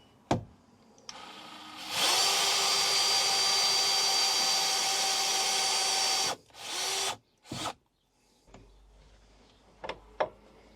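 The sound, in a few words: power drill drilling a pilot hole in beech wood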